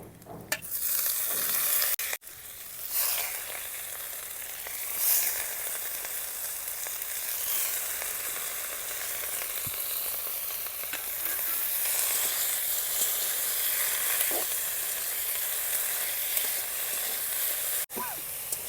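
Gourd leaves with onion and chopped chilli stir-fried in a pan as the water cooks off: a long, even, loud sizzle close by, with occasional spatula scrapes and a couple of sharp knocks.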